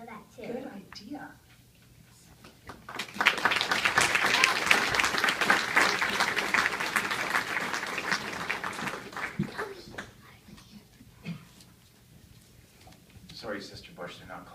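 An audience bursts into sustained applause in a room, swelling for several seconds and then fading, with people talking before and after it.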